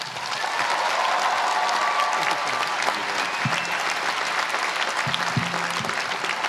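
Sustained applause from a large commencement audience welcoming Denzel Washington at the University of Pennsylvania, a steady dense clapping that stays loud for the whole stretch, with a few faint crowd voices.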